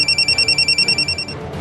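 A telephone bell rings in a fast, even pulse of about a dozen short bursts, then cuts off, leaving a low background rumble.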